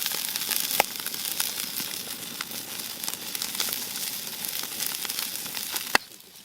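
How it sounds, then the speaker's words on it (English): Burger patties sizzle over a backcountry campfire with a steady, soft, hissing fry. Occasional sharp crackles and pops come from the fire. "we brought out our burger patties to cook"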